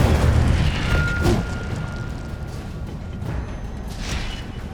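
The Incendio fire spell cast in Hogwarts Legacy, a deep booming whoosh of flame that bursts loud at the start and then fades into a lingering rumbling roar.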